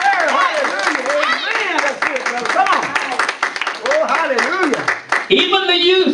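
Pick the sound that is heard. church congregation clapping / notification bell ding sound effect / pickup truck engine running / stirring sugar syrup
church congregation clapping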